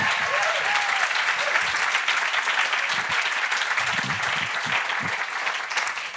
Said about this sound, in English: Let's have another round of applause for Tina and Johannes.